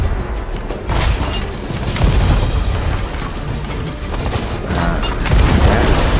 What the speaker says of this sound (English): we were lighting them up with our cannons